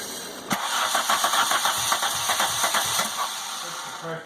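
An MK2 Volkswagen GTI engine converted to motorcycle carburetors cranks with a rapid rhythmic starter chatter and sputters, loud and close, over several seconds.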